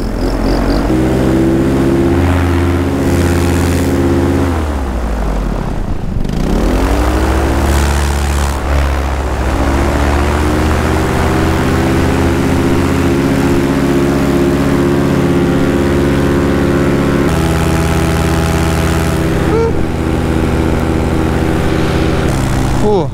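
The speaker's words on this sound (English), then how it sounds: "took a few tries to get the engine started then. Jake ended up doing it for me quite a long takeoff." A paramotor's loud, steady propeller engine drone runs throughout a takeoff, dipping in pitch briefly before climbing back to a sustained roar.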